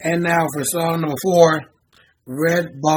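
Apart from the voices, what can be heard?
No everyday noises stand out.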